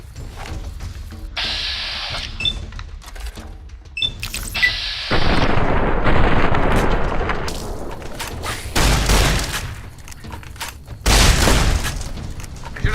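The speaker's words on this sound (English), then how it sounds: "firing warning shots out of a 40mm grenade launcher" A 40mm grenade launcher fires in Fallout New Vegas, each heavy boom followed by a long rolling blast, several explosions spaced apart and loud, with no talking.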